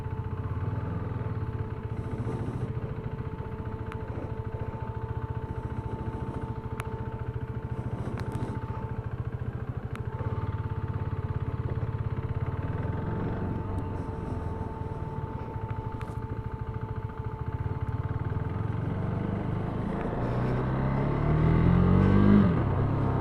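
A KTM RC390 motorcycle on a test ride, its engine droning in a steady rumble with wind noise throughout, then swelling louder near the end as it accelerates.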